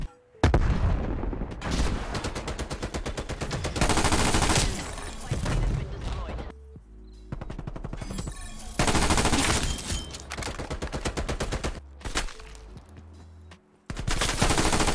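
Rapid automatic fire from the new Vargo 52 gun in a multiplayer first-person shooter, loud bursts of close gunshots broken by short pauses, with faint voices now and then between the volleys.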